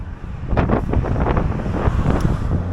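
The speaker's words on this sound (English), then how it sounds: "This headwind is crazy." Strong headwind buffeting the microphone while cycling along a coastal road in Greece, a loud, continuous low roar with gusty swells throughout.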